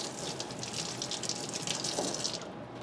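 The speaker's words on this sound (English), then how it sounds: "I'm gonna wash this real quick." Tap water runs steadily into a kitchen sink while carrots are rinsed, a continuous close splashing flow that cuts off just before the end.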